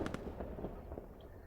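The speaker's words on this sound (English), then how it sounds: "I heard some explosions." Muffled explosions thud a few times in quick succession during an online team match in a shooter game, faint and distant.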